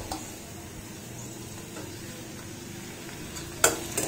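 Fresh tomato goes into a pan of frying bamboo shoot and vegetables, giving a soft, steady sizzle and stirring, with a sharp utensil clatter against the pan near the end.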